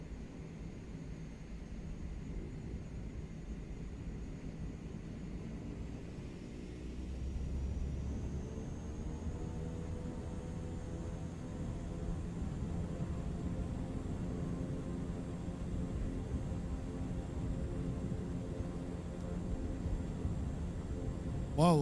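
Aircraft taking off in the Miltech Simulations flight game, with a low engine rumble that grows louder midway as power rises into a steady roar, accompanied by a faint high whine.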